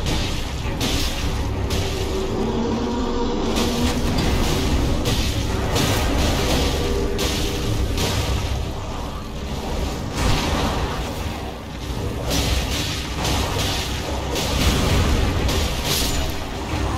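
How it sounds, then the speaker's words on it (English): Jar cannon firing in Elden Ring on Mt. Gelmir: loud, dense booming blasts and bursts that keep going across the whole stretch over a rumbling low background, with no talk. "Jar cannon? What is that? Is that a gun?"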